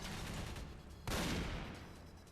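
Gunfight in the Half-Life 2 mod SMOD: Redux at Nova Prospekt, a dense roar of overlapping gunfire that surges sharply louder partway through and stays loud to the end.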